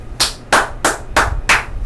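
Five sharp hand claps ring out alone at an even, unhurried rhythm, each crisp and close.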